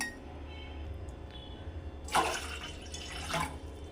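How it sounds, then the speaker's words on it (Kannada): About two glasses of water splash and trickle in two short bursts as they are poured, close by, over a low background hum. "ಎರಡು ಗ್ಲಾಸಷ್ಟು ನೀರು ತೊಗೊತಾ ಇದ್ದೀನಿ"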